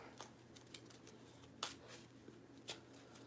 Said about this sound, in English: Give a little shuffle.